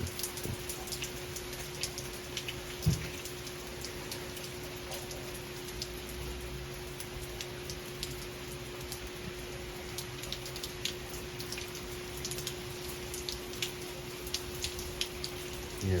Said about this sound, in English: So it's been raining for quite a while.